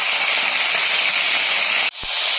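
Snakehead fish pieces hit two tablespoons of white oil in a hot pan, setting off a steady, loud, close sizzling hiss. It drops off abruptly near the end, then a faint sizzle returns.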